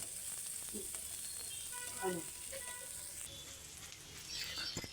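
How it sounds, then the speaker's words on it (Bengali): Chopped onion and garlic sizzle steadily in hot oil in a pan, a constant crackling hiss with a few faint stirring knocks and some quiet background sounds, close and even. "ভাজা শেষ হয়ে গেলে একই প্যানে পেঁয়াজ রসুন কুচি দিয়ে কিছুক্ষণ"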